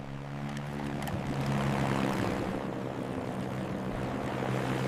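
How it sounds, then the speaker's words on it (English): A propeller airplane drones steadily overhead, its engine hum continuous and fairly loud throughout. "Whoosh goes the airplane, flying high."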